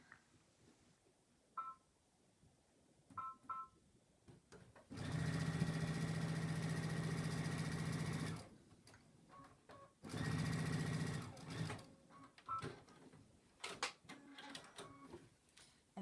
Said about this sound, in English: So I'm sewing with about a 1/2 inch seam allowance.